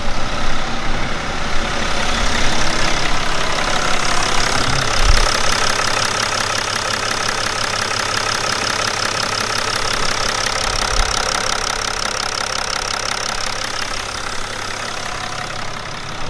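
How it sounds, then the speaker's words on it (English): A BMW E60 535d diesel engine runs steadily at idle, a loud, close, even clatter and hum that holds without pause and with no talking. "At least the sound of the engine is good."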